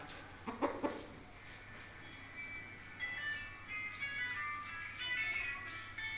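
A rooster gives a few quick, nearby clucks, followed by softer, scattered bird calls over a steady low background hum.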